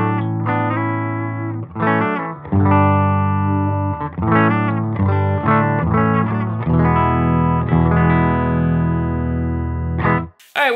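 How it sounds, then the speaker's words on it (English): An electric guitar, a Saib Guitars OH10, plays clean, sustained chords and melodic notes through a Silktone amp, loud and continuous with brief pauses between phrases. "Tonight, for the whole night, I will be running this Saib Guitars OH10 into a Silktone Amps."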